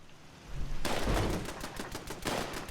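Bursts of gunfire ring out while shooting at hostile mobs in the video game Fallout 76, dense and loud for several seconds, easing off, then flaring again near the end.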